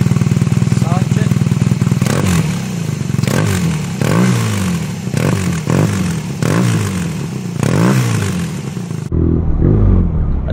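A BMW R nineT motorcycle engine runs close by with a throbbing, rumbling idle and repeated revs, then cuts abruptly near the end while the low rumble continues.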